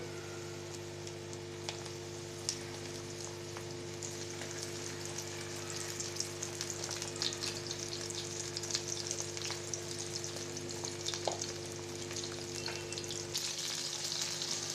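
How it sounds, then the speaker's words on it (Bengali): Iftar snacks deep frying in a pot of oil, giving a continuous soft crackling sizzle with scattered pops, moderately quiet over a low steady hum. "ডুবো তেলে ভেজে নেব।"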